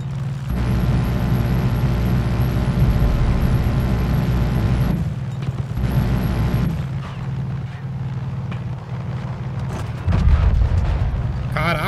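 Loud, continuous rumbling roar of cult convoy cars being blown up in the Far Cry 5 video game, heavy low booms running nearly unbroken with a fresh burst near the end, while a voice talks over it.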